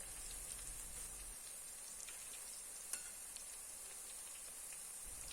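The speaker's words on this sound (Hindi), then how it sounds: "अब हम इसमें अनियन रिंग्स डालेंगे और इसे फ्राई करेंगे।" Onion rings frying in hot oil for crispy homemade rings, a soft continuous sizzle and hiss, close but quiet, with a small clink partway through and no voices.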